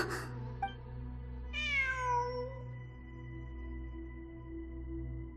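A cat in Genshin Impact gives one clear, falling meow after a brief faint chirp, set against a constant low ambient drone from the game world.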